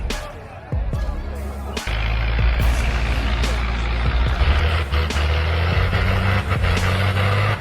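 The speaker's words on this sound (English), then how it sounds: "a truck loaded with wood is going up a slippery slope" A wood-laden truck grinds up a slippery slope with a heavy, strained engine roar close by and thumps and clatters on top, while faint voices murmur in the background.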